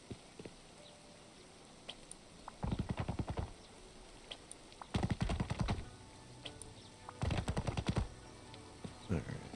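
Gunfire in the survival video game Rust comes as three distant bursts of rapid, rattling shots, each lasting about a second, separated by quiet ambient gaps.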